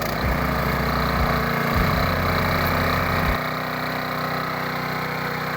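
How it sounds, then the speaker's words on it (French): A gas-powered motor pump runs steadily on a farm for irrigation, its engine droning loud and close with a rough, even throb and slight shifts in pitch, with no voices. "Nous utilisons la motopompe pour notre irrigation. C'est une motopompe à gaz."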